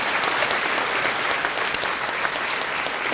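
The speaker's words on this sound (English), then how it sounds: "Let's give these students a great round of applause." Dense, continuous applause from a large audience at a high school senior assembly honoring graduating students, loud and sustained throughout with no break.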